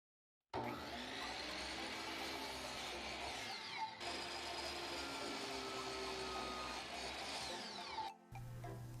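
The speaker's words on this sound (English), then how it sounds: "sanded everything smooth with 220 grit sandpaper" Wood for a wedding arbor being sanded with 220 grit sandpaper, heard as a loud continuous whirring of a power sander running close by, with a brief dip near four seconds and a stop shortly before the end.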